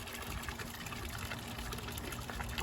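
A 25-watt solar fountain pump runs outdoors in a field, giving a steady, moderately loud wash of splashing, pouring water with a low hum beneath. No break in the flow.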